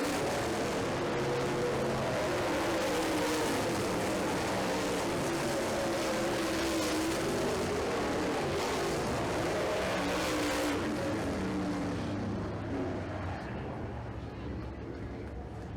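Late model race cars roar around a dirt track in a 25-lap A main feature, a dense continuous engine drone that stays loud before easing slightly toward the end, with an announcer faintly under the noise.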